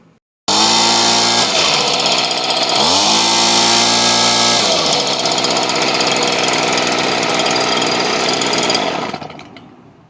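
A power tool runs a steady whining motor while driving three fine-thread bolts into a Stihl BG 86 leaf blower during a carburetor and fuel line repair. The pitch dips twice under load, and the sound is loud, close and continuous for about eight seconds.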